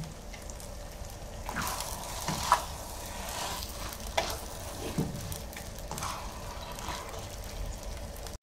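A pan of eggplant sizzles steadily after a sautéed seasoning mix goes in, with a soft, continuous fry broken by a few stirring clinks and scrapes. The sound is moderately close and fairly quiet, with no talk.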